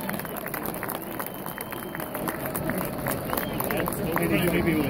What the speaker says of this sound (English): have a round of applause for our guests from Macy's and for your West Point Band